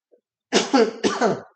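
Two quick harsh coughs in close succession, near and fairly loud, with silence before and after.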